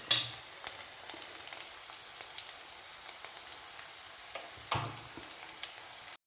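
Urad dal sizzling in hot oil in a pan for radish thoran, a steady soft frying hiss with scattered small pops and crackles, close by and without talk.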